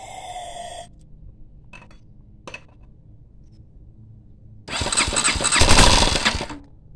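A 230cc single-cylinder motorcycle engine swapped into a CTX200 frame catches and runs briefly, a loud rough burst following a few faint clicks and quiet moments.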